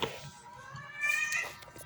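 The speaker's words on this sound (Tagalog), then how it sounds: "Tignan yung mga pusa ko." Pet cats meowing indoors at home, with a couple of soft, drawn-out mews near the start and a louder, higher meow around the middle, fairly close but not loud.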